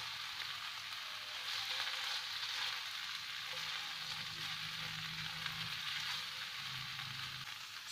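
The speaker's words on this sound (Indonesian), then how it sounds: "Lalu cabainya masuk. Tumis lagi, dimasak dulu sampai mateng" Chili peppers sautéing in a hot pan for tofu in sweet soy sauce, a steady close sizzle with faint stirring scrapes, with no talk.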